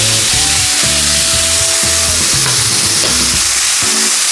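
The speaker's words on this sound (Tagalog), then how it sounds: "fry naman po natin ang ating liver" Liver frying in a hot pan, a loud, dense and continuous sizzle close by, with low clattering and scraping underneath and no talking.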